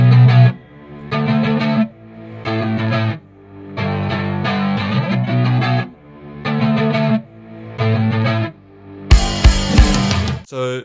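A pop punk pre-chorus built in Ableton Live, with loud distorted guitar chords in choppy stop-start bursts over drums and bass, then a crashing cymbal-heavy fill that bursts in near the end.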